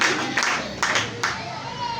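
A church congregation claps in a few sharp bursts to acclaim Jesus during a worship service, the claps loud and close, mixed with crowd noise and a voice.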